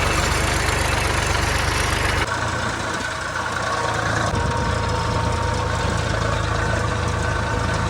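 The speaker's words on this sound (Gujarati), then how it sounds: "અને આ ટ્રેક્ટર આવી ગયું છે આપણા હાથમાં" A tractor engine runs loud and close while ploughing a field, a continuous heavy rumbling drone that shifts slightly in tone early on and then holds steady, with no voices.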